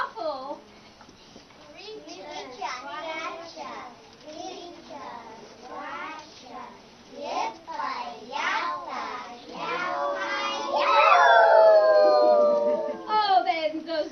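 Children at a Thanksgiving school program imitate howling and screeching animals. Their voices rise and fall in wavering howls, overlapping in a noisy chorus that grows louder toward the end.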